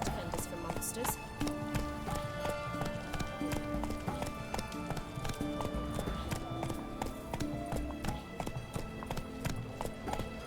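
Geralt's horse Roach galloping in The Witcher 3, a rapid, even drumming of hooves close by and fairly loud, with other game sounds mixed in throughout.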